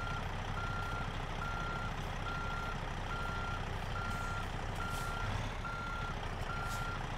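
A truck in American Truck Simulator backs up with an evenly spaced reversing beep repeating about every second, over a loud, constant engine rumble.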